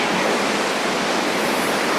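Hogenakkal waterfall roaring with rushing water and spray: a loud, steady, dense wash of white noise with no break, close by and with no voices.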